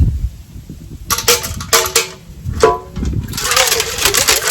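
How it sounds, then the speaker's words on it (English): Small rocks rattle and clatter inside the hollow metal housing of a 1945 Evinrude 9.7 HP outboard motor in a few sharp bursts, followed by a longer scraping rattle. "I'm gonna throw in a handful of small rocks."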